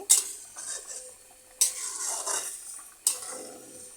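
Cauliflower and egg curry stirred in a pan: three sharp metal spoon clanks against the vessel, each followed by a scraping swirl and faint sizzle, close and clear.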